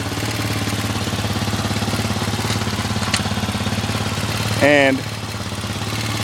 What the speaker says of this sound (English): This is a ATV 60 that I bought from Power Sports.